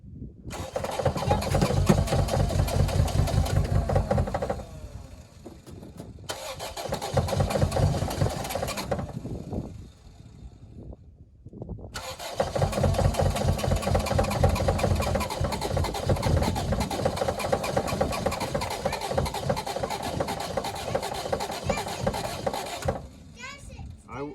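A 1989 Grand Marquis engine idles roughly, a loud sputtering, uneven chug that cuts out and restarts several times, with a voice and other talk mixed in around it.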